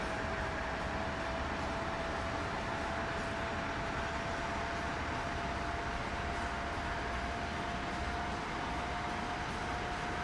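Train running in Train Sim World 4, a steady loud rumble of wheels and motor with a constant high tone, unbroken throughout and without talk.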